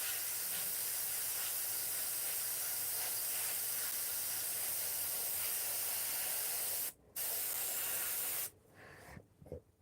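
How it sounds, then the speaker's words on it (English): An airbrush sprays paint onto vintage lettering cutouts with a steady, close, continuous hiss that breaks off briefly once and then stops, ending with a few small handling sounds. "I do the detail, and then come back over it with the airbrush a little bit to clean things up a little bit more"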